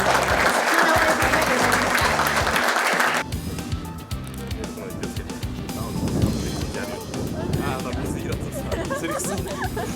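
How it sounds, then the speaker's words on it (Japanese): An audience at a golf talk session claps loudly to send off Hideki Matsuyama, the applause fading after a few seconds into crowd murmur and voices. "大きな拍手で松山選手を送っていただければと思います。"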